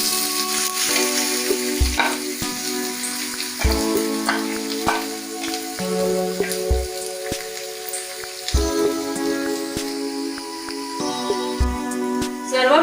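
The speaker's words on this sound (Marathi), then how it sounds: "सर्व मिश्रण तेलावर परतून घ्या." Vegetable salad mixture frying in a pan with a spoonful of oil, a steady close sizzle with occasional stirring scrapes and clacks throughout, no talking.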